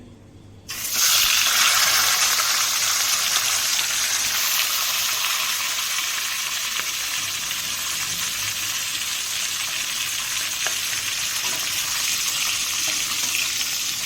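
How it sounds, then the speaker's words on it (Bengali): A fish head frying in hot oil gives a steady, loud, hissing sizzle that starts abruptly and holds evenly to the end, with no talk. "এই যে এখন আমি মাছের মাথাটা ভেজে নেব"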